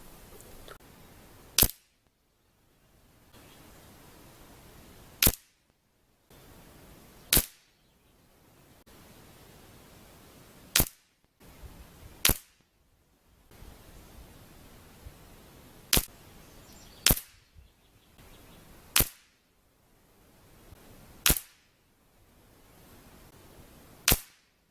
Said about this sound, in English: Benjamin gun shooting